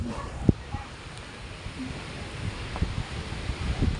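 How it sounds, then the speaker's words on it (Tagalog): Strong wind by the sea gusting against the microphone, a steady rushing roar with rustling and occasional knocks, with voices speaking faintly underneath. "Ayan, lakas ng hangin."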